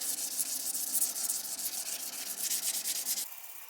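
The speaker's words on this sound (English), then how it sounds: "sand the flats, but not the bevels, with a 1500 grit" A 1500 grit sand pad rubs back and forth across the flats of a 5160 steel seax knife blade in quick, even, hissing strokes that continue steadily, then stop abruptly.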